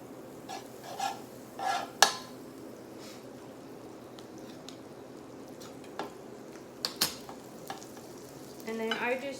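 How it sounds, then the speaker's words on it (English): Butter sizzling in a hot skillet before pancakes from a grain-free paleo mix are cooked, a steady low crackle with a few sharp utensil clinks and scrapes, a louder burst of sizzle near the end, no voices. "I do have a hot skillet. You want to make sure your skillet's hot. So I'm just going to add some butter to mine."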